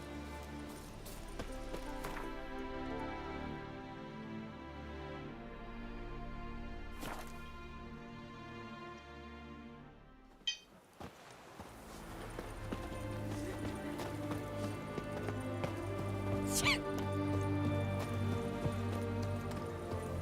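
A horse gallops in The Witcher 3, a faint rhythmic clip-clop under game music that cuts off briefly and then resumes with hoofbeats over fuller ambience.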